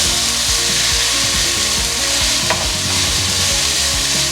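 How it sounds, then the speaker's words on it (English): Onion, garlic and ginger frying in a pan while being stirred, giving a loud, close, continuous sizzle with repeated scraping and knocking strokes of the spoon throughout. "Stir it and let it cook until they're golden brown"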